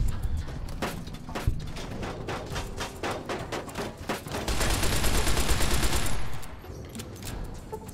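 Rapid gunfire crackles in Fallout: New Vegas, a fast run of sharp repeated shots that swells into a dense, sustained roar before cutting back, with no talking over it.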